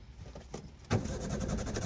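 A car's hand brake is pressed and released, giving a faint mechanical click followed by a louder ratcheting clunk and a short rattle from inside the cabin.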